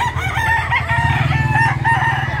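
Roosters crow and hens cluck together at a crowded native chicken market in Baliwag, Bulacan, a dense, loud chorus of overlapping calls close by.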